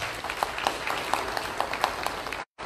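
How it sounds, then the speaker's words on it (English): A church congregation applauds with steady, dense clapping that holds evenly for over two seconds before cutting off abruptly. "Let's give him another round of applause,"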